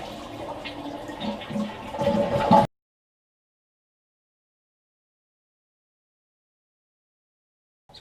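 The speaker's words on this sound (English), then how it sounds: "I'll give it a flush to drain the water." Toilet being flushed to drain the tank after its water valve is shut off, a short gurgling rush of water lasting under three seconds that cuts off abruptly, followed by silence.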